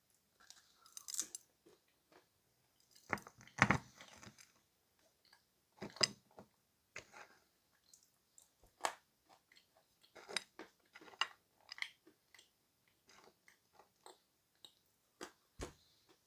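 Chalky Bashkir or Crimean edible clay is bitten and crunched up close, with scattered dry, sharp cracks and crumbling snaps separated by quiet pauses.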